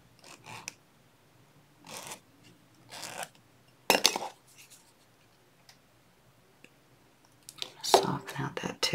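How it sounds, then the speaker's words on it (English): A metal file rasps against the tip of a woven wire pendant in short bursts of strokes, close and fairly quiet, with pauses between them and a longer cluster of filing at the end. "File it and then sand it."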